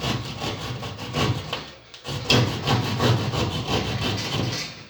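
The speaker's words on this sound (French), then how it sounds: "Ces petites scies à placo qui sont prévues pour" A small drywall saw cutting through plasterboard, close and steady back-and-forth rasping strokes with a brief pause before the sawing resumes.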